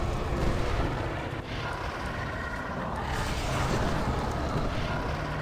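Doom 3 combat with dense, continuous weapon fire and rumbling explosions, loud and layered with no clear gaps.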